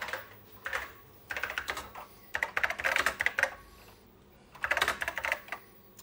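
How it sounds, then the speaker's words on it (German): Fingers type in quick bursts on an old home computer keyboard, close and clear, the clattering keystrokes separated by short pauses, with no talking. "Auch das Geräusch dürfte Nostalgiker freuen wahrscheinlich. Ich liebe diese Tastatur."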